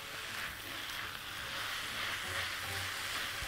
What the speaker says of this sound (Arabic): وافضل اقلب في اللحمه المفرومه بالشكل ده كده اهو، مع البصل ومع الفلفل بتاعي